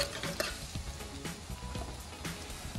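Iguana curry sizzling and frying in a pot, catching and burning slightly, with a continuous close sizzle and scattered stirring scrapes and clicks.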